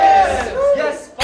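Korean fans crowding around a K-pop group during filming let out a sudden loud burst of shouting and screaming, high-pitched and close, that quickly fades.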